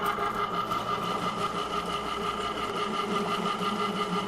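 An electric mixer blends dye into a large batch of slime, giving a steady, close mechanical whir with a fast regular pulse and no talking.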